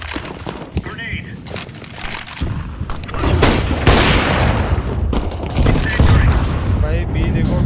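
Gunfire and a grenade blast in Counter-Strike 2, with sharp shots and rattling bursts building into a heavier, louder boom and continued firing, while players talk over the action.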